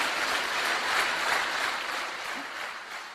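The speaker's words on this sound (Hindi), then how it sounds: "दोस्तों, कांति के लिए जोरदार तालियां हो जाएं।" Steady clapping from a crowd, a dense even wash of applause that fades slightly toward the end.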